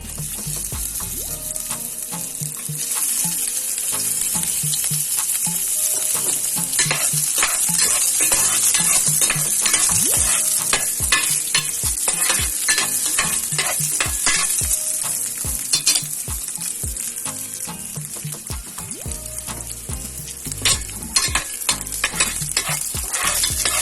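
Chopped onions sizzle and are stirred in a hot pan for chicken gisado, with a steady loud frying hiss and frequent scraping and tapping of a utensil throughout, and no voices.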